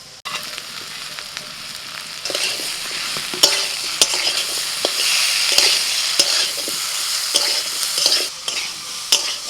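Spices stir-fried in a pan with ridge gourd and eggplant, salt, chilli, turmeric and ginger-cumin paste, giving a steady close sizzle broken by sharp scraping clicks of a spatula throughout.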